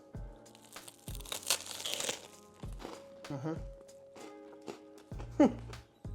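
Crunchy bites into a grilled South American sandwich with soft and crunchy toasted bread, several crisp crackles spaced over a few seconds, close up with chewing and mouth noises between.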